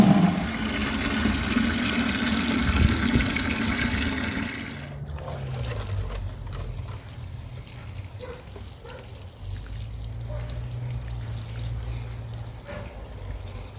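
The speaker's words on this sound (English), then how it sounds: "So I'll be taking that and pouring it into the watering can," Regular tap water pours into a watering can to dissolve an iron solution for strawberries, a loud rushing stream for about five seconds, then quieter dribbling and handling sounds with a low hum.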